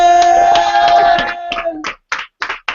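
After a sustained tone fades, a handful of sharp, separate hand claps ring out close by at a spoken word poetry event.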